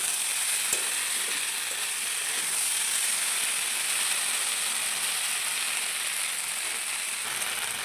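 Ginger and green chillies stir-fry in a pan for a mixed vegetable curry, a steady close sizzle and crackle with faint scraping of stirring throughout, and no talking.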